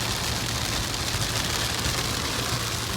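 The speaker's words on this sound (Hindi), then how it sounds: "देखियो कितनी तेज बारिश आ गई एकदम" Heavy rain pours onto a road during a trip, making a dense, loud, unbroken hiss that holds steady throughout with no voices.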